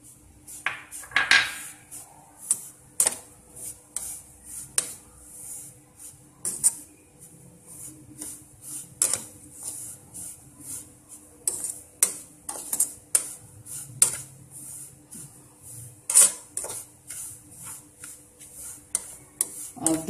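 Semolina and grated coconut roasting together in a pan for sweet semolina laddus, heard as a steady run of light metallic scrapes and taps of a spoon against the pan, close and fairly quiet, with no talking.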